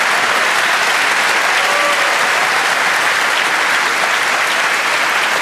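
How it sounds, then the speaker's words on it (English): A festival audience applauds a panel at a Melbourne Writers Festival event, steady sustained clapping filling the space throughout without a break. "You can give yourselves a quick round of applause if you wouldn't mind."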